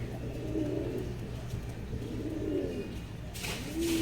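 A black pigeon coos on a rooftop. Soft, repeated coos in a low register rise several times over a steady background hum, and a brief hiss comes near the end.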